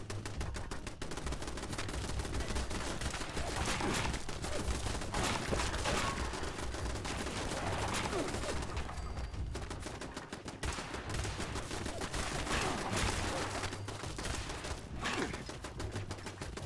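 Automated turrets in Fallout 76 fire continuous rapid bursts of gunfire, dense and loud, with brief lulls between volleys and no talk.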